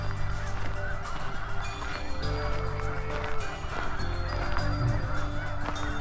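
A large flock of geese at a bird refuge honk continuously, overlapping calls from many birds forming a loud, dense chorus with no pause.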